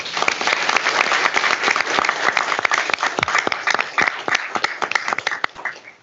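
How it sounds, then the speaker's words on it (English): Audience applause at an African American heritage celebration: a dense, sustained burst of many hands clapping indoors, loud and even, tapering slightly toward the end with no voices over it. "Can we have another round of applause for the multi-talented Arthur Grimion and friends?"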